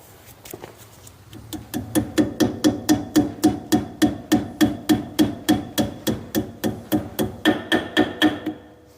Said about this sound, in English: I'm gonna have to hammer it in because it's gonna go with a little bit of tension